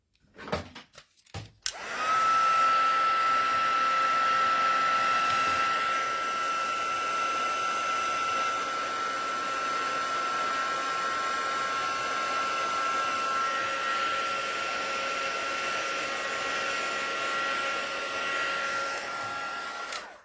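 A hair dryer drying watercolor paint on a pine tree painting clicks on after a few brief knocks and runs steadily at a loud, constant whine until it cuts off at the end.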